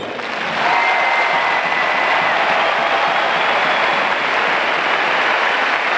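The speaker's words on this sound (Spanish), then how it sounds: "Este aplauso es para ti, Carlos." Dense, steady applause from a large arena crowd at a Liga Endesa playoff semifinal basketball game, honoring team captain Carlos Alocén. It swells in within the first second and then holds loud and unbroken.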